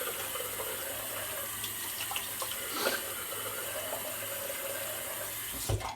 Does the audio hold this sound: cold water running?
yes